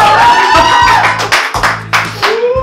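A studio crowd claps and cheers during a comedy show's season finale, loud sustained applause with whoops throughout, rhythmic clapping pulses under a voice talking over it.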